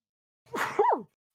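A single sneeze from a player at a tabletop Dungeons & Dragons session, a sharp intake bursting into a loud, close, breathy expulsion lasting under a second, alone without talk.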